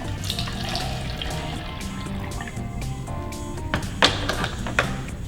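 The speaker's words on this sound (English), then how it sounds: "measure out 1/2 cup of warm water and put it into your container that you'll make your mixture in" Half a cup of warm water poured into a mixing container for homemade bouncy balls, a steady close trickle and splash lasting several seconds, with a few small clinks near the end.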